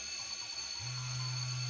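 Phone ringing in the visual novel game 9-nine-, a steady electronic tone that starts partway through and holds evenly over a bed of constant high-pitched alarm-like hum.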